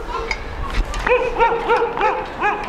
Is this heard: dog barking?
yes